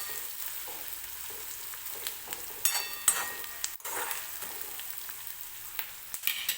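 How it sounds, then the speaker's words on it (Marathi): Onion frying in a pan until soft for potato bhaji served with dosa, a soft steady sizzle with scattered stirring scrapes and light clinks from the pan. "कांदा थोडासा सॉफ्ट होईपर्यंत भाजून घ्यायचा आहे."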